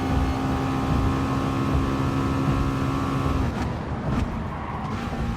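A McLaren race car engine drones at steady high revs in GT Sport during a Nation and Manufacturer race, a constant loud hum that eases off near the end, with no talking.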